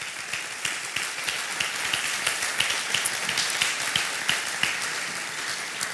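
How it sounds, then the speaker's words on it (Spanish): Church congregation applauding together during a bilingual Spanish-English sermon, steady dense clapping sustained throughout at moderate loudness with no speech over it. "Give a mighty round of applause to God."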